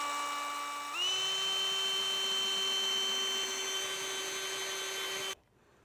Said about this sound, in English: when I come in with the diamond tile, I come in at an angle with the drill on